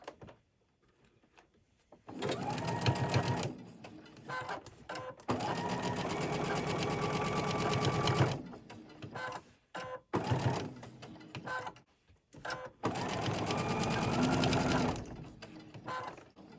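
A sewing machine stitching a fabric table runner in rapid whirring bursts of several seconds each, separated by short pauses and a few clicks of handling, close and clear.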